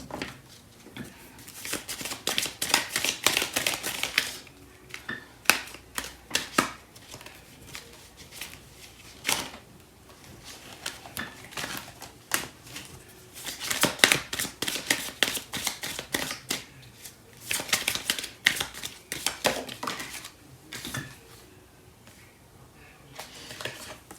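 Starseed Oracle cards are shuffled by hand in close, crisp riffling bursts, clusters of quick flicking snaps repeating every few seconds with quiet handling between.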